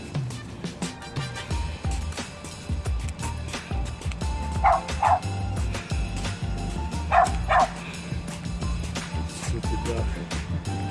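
A dog locked inside a car barks and whimpers repeatedly, muffled yips and howls rising in short bursts over a low background hum.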